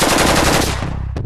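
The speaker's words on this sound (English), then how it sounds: "Okay, we're gonna do a little full auto fire." Kalashnikov rifle firing on full auto, a rapid loud burst of about ten close shots that stops abruptly, followed by a brief echo and one faint click.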